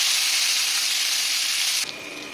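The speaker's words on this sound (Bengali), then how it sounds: "দিয়ে আমি এটাকে এখন একটু লাল লাল করে ভেজে নেব" Steady, close sizzling of onions frying in hot oil, a dense hiss that drops off sharply near the end.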